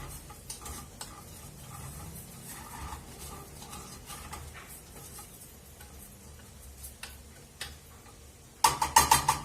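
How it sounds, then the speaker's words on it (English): Rice stir frying in a pan crackles with a soft, continuous sizzle and scattered ticks, ending in a burst of sharper scraping clatter as it is stirred. "this is it's already stir frying."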